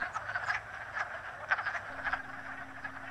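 Frogs in a vernal pool croak steadily in a dense chorus of short repeated calls, fairly loud and continuous, with no voices.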